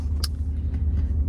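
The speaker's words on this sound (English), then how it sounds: "Truck blocking the entire road." Vehicle rumble on a road where a truck blocks the way, a loud close low-frequency drone lasting about a second with a brief sharp click near the start.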